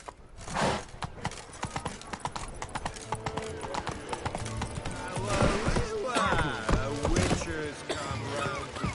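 A horse gallops in The Witcher video game with a quick, rhythmic clip-clop of hooves, close and fairly loud, with game voices speaking over it.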